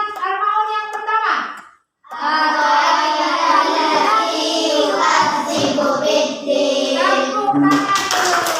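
A classroom of children claps their hands together in a steady burst that runs alongside voices chanting and talking, after a brief pause near the start.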